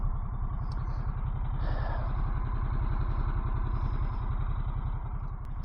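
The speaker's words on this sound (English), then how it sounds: "our first ride together on the 2024 Harley Davidson Sportster S" A 2024 Harley-Davidson Sportster S motorcycle engine running with a loud, steady, rapid pulsing throb, close up and continuous, with no voices.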